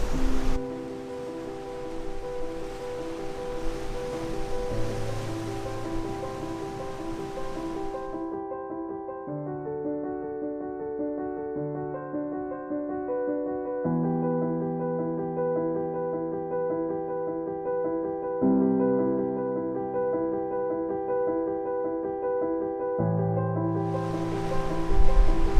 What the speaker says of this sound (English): Now I just need to wait for one more big wave